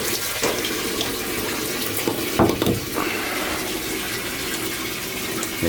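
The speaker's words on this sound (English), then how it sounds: "And then that water will drain down." Water draining down from a shallow well pump's pressure tank after the air valve control is removed, a steady rushing flow with a few gurgling surges, close and continuous with no talking.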